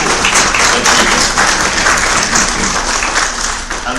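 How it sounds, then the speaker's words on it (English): Audience at the Caribbean Growth Forum giving a big round of applause, loud dense clapping close by that continues steadily and tapers slightly toward the end. "give them a very big round of applause"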